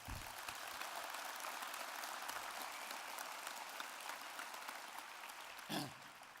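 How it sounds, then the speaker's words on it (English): An audience at an evening award event applauds Michael and his team, producing a steady, dense wash of clapping that is faint and distant and holds throughout. "Let's give Michael and his team a big round of applause"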